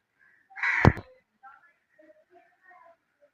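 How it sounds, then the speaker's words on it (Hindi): Birds call in a quiet, overcast village. One loud, close crow caw stands out, followed by a few faint, scattered chirps from smaller birds farther off in near silence. "गाँव का पुरसकून माहौल और चहचहाती आवाज़ें परिंदों की"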